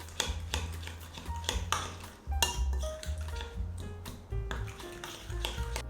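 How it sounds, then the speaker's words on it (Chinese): A spoon or whisk stirring buckwheat cookie batter in a bowl, with irregular clinks and ringing taps against the bowl's side, close and fairly quiet, with no voices. "简单的把材料再搅拌均匀之后"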